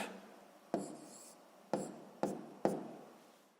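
Pen writing by hand on paper while constructing perpendicular lines for a sixth-grade geometry exercise, heard as four short, close scratchy strokes spaced about a second apart over quiet background.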